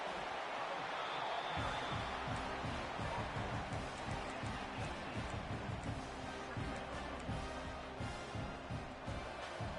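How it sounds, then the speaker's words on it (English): A roaring home crowd at a college football game between Penn State and Ole Miss swells into sustained, dense stadium noise during a red zone defensive stand, with a commentator speaking over it. "This crowd is trying to inspire this defense to make a big red zone stop."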